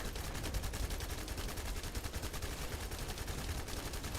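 Rapid, continuous bursts of gunfire crackle through a dense wall of noise, like sustained automatic weapons fire, fairly faint and steady throughout, from the video game The First Descendant.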